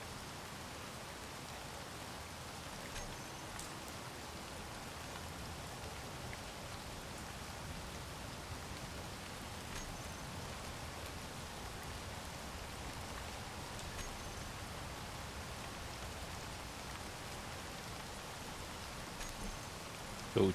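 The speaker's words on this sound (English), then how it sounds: "Oh joy, it's raining again." Steady, soft rainfall in the Space Engineers game world, a continuous faint hiss of drops with no distinct thunder, lasting unbroken for about twenty seconds.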